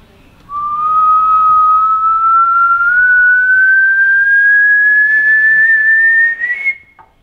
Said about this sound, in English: the Egyptians said that if you whistle in an ultrasonic tone, it will unlock